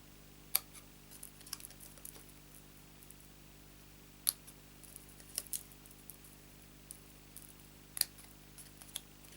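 Small snips cut paper in a few sharp, isolated clicks spread across a quiet tabletop room, near and crisp against a low background hum.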